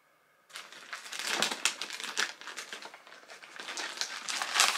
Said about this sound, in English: Okay, so it's just a plastic bag.